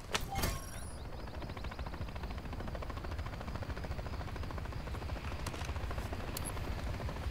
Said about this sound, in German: Heli gesichtet.